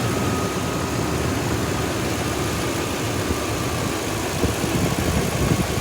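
The engine of a used Toyota SUV runs at a steady idle, a close, even rumble that holds throughout with no talking.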